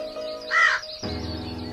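A crow lets out one rough caw, fairly close and clear, over a quiet background hum that thickens afterward.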